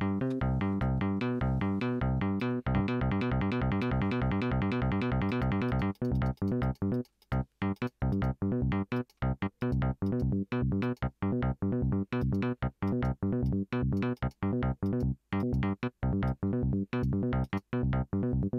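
A DX7-style FM synth app on a phone is driven by an arpeggiator. It plays a fast, steady stream of bright plucked notes that keeps on without a break, with tight choppy gaps in the later part. It sounds alone, with no voices.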